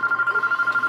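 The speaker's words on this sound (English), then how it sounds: "I'm not going to answer a phone call in the middle of a battle." A phone ringing in rapid repeated electronic pulses, a steady bright tone beating about a dozen times in under a second, loud and alone.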